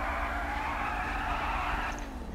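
Car burnout in GTA V, a continuous loud tire skid and squeal with a high screeching band over engine roar, holding steady before tapering near the end.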